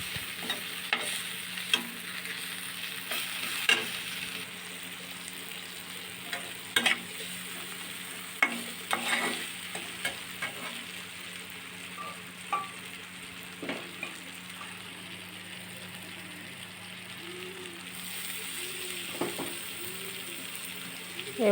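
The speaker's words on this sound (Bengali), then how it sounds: "মশলাটা ভালোভাবে কষানো হচ্ছে।" Spices being sautéed in a pan ahead of boiled cabbage and potato, a quiet continuous sizzle broken by frequent scraping stirs of a utensil against the pan, with no talking.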